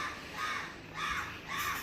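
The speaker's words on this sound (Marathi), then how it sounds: "आजी आला का कावळा?" A crow caws three times in a slow, even rhythm, harsh and fairly close, with no talking.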